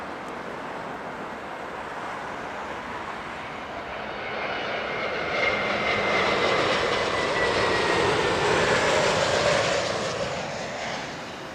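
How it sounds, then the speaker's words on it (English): JetBlue Airbus A321neo jet landing at Heathrow Airport, a broad roaring engine rumble that swells louder midway and holds steady as the aircraft nears, heard from outdoors without talk. "JetBlue Neo there, finishing its journey across the Atlantic from the US."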